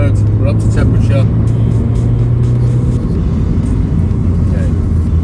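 A 2001 Subaru Impreza 2.0 GX heard from inside the cabin as it accelerates through the gears: a loud, steady engine drone that shifts pitch partway through as a gear changes, over road rumble.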